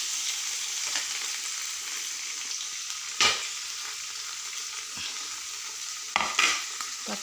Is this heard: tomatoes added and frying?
yes